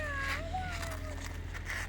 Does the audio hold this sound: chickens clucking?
no